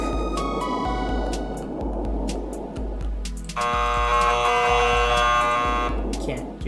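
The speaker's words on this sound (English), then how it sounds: "As you can tell with all the buzzer sounds." Repeated electronic buzzer tones blare from a marble video game, each harsh sustained buzz broken by short gaps, and a louder, denser buzzing layer takes over midway, all loud and close with no talk over it.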